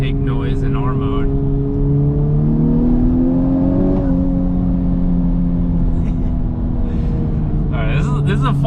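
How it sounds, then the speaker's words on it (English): A Honda Civic Type R Limited Edition engine revs with a droning artificial intake note in R mode, pitch rising then easing back, with brief voices near the start and end. "it has like the artificial intake noise in R mode"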